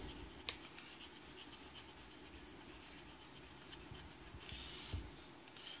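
A Franklin-Christoph Model 27 fountain pen with a stub nib scratches steadily across paper, a faint, close, continuous scritching with a couple of small ticks.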